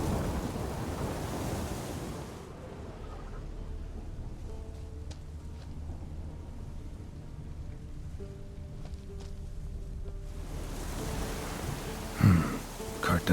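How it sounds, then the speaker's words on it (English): In the game The Witcher 3: Wild Hunt, a thunderstorm brings heavy rain and low rumbling noise that wash in, fade to a quieter spell in the middle, then surge back, ending with a brief louder thunder crack. "A storm, damn it."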